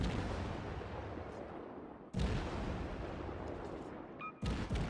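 Warship guns fire in the naval combat game World of Warships with heavy, booming blasts. Two sharp reports stand out, each followed by dense, rumbling noise that keeps the whole stretch loud and continuous.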